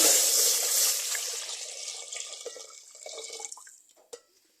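About one litre of milk poured into a pot on the stove, a loud splashing gush at first that thins to trickles and drips before a final small knock.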